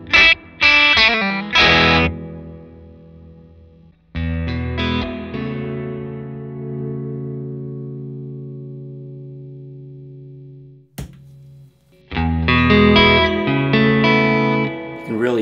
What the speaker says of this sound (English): here it is with the dwell control turned down a little bit and the verb turned back up